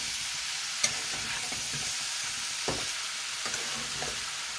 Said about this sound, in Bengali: মাছের মাথাগুলো দিয়ে একটু মিশিয়ে দিচ্ছি।